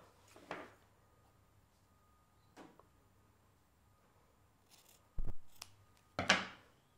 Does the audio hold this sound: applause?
no